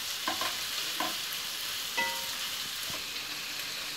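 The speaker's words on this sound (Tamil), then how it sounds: "இதையும் இப்போ இதிலே சேர்த்துக்கிறேன். சேர்த்து நல்லா வந்து வதக்கி விட்டுக்கிறேன்." Sliced capsicum sizzles in a pan for capsicum rice, a constant frying hiss with several sharp stirring scrapes and clinks spread through it, close by and without any voices.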